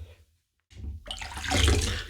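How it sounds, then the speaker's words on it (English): Hands splash and scoop water, likely at a sink, to wet the face before a wet shave with a single-blade disposable razor; a short burst, a pause of near silence, then louder, sustained near splashing. "Get my hands in the water."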